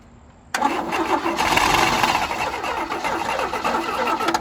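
After a quiet moment, a 1977 Chevy Camaro engine cranks with a booster attached, giving a loud, steady, rhythmic churning that carries on without catching.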